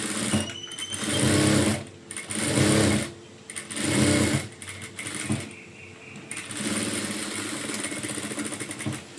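A sewing machine stitches a blouse in three loud bursts of rapid, whirring needle runs separated by short pauses, followed by a longer steadier stretch of stitching, close up with no talking.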